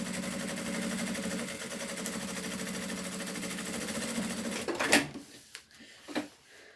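A sewing machine stitches bias binding onto fabric with a steady, even mechanical whir for several seconds, then stops, leaving a few faint clicks and handling knocks.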